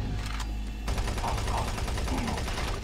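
Rapid machine gun fire in the Doom 3 BFG Edition video game, a dense, continuous burst of loud shots running through the whole stretch with the game's background noise underneath.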